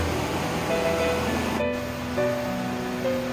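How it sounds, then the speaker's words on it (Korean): A waterfall in the Muju Gucheon-dong mountain valley pours into a pool where two streams meet, making a steady, dense rushing roar that stays close and constant throughout with no voices. "월음령과 백년사에서 흘러온 물이 합류하면서 쏟아내는 폭포수가 담을 이루는 곳입니다."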